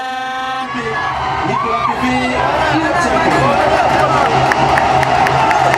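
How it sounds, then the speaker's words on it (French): A large stadium crowd at an Africa Cup of Nations football match with Côte d'Ivoire shouts, cheers and whistles in a dense, continuous roar, with voices rising and overlapping throughout. "Pendant que le match bat son plein, l'on entend des cris, des encouragements, mais aussi des plaintes par-ci par-là."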